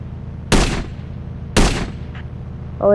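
Two sharp, loud gunshots about a second apart ring out in the mobile game Indian Bike Driving 3D, each with a short decaying tail, followed by a faint mechanical click.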